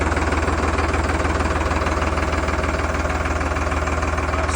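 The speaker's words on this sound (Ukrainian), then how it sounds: "Самий найтяжчий трактор на 50 кінських сил." A 50-horsepower Solis tractor engine idles steadily up close, a loud, even low chugging rhythm with no breaks.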